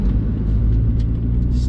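A car being driven, fitted with double wishbone front suspension, gives a steady, close engine and road rumble that holds evenly throughout without pause.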